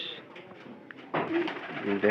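Domestic pigeons in a loft give low, throaty coos close by. The coos grow fuller and louder in the second half against a soft background hiss.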